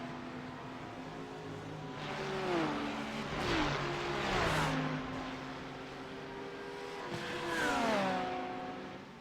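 Several GT3 race cars in a sim racing game at Virginia International Raceway run four abreast. Their engines rev and climb, then drop with repeated gear shifts, swelling loudest in a few passes with no talking over them.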